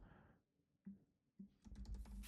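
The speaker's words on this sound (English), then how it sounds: "and then I can start typing." Soft clicks of typing on a computer keyboard, a few isolated keystrokes followed by a quicker burst of taps, close and quiet with no talking.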